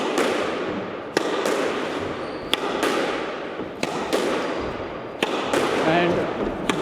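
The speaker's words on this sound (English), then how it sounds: "So I'm going to volley back to myself." A squash ball is volleyed forehand against a court wall, giving sharp, regular smacks about every second and a half, each followed by a short echo in the court.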